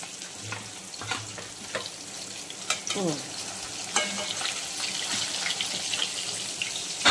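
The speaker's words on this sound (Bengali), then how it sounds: "এবার মাছটা ভেজে নিই" Sole fish sizzles and crackles in hot oil in a pan, a soft steady fry broken by scraping spatula strokes and clinks against the pan.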